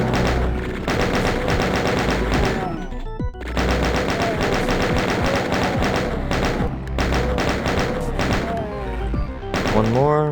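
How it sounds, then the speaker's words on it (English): Chaingun fire in the shooter game Doom II, aimed at shotgun-wielding enemies: sustained rapid mechanical bursts, loud and dense, broken by a brief pause and then resuming alongside in-game music. "I guess I'll just chain gun these guys."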